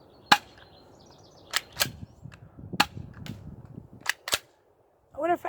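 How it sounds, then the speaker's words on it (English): Handgun shots fired at an orange target, heard as several sharp, fairly quiet cracks spaced a second or so apart over a low background, ending with a brief rattle. "Again, I'm shooting at the orange thing."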